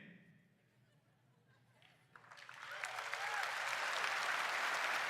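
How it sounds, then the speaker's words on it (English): Audience applause at NVIDIA GTC rises from near quiet after about two seconds into a full, steady wash of clapping from a large crowd that holds to the end, with faint talk before it starts. "I love his pause for applause."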